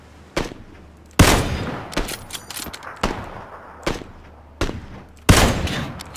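Loud, separate gunshots crack from a PUBG match, about eight sharp reports spaced irregularly with short echoing tails and quiet gaps between them.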